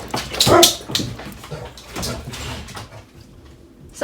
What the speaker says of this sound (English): Dad came home and the dogs got all excited.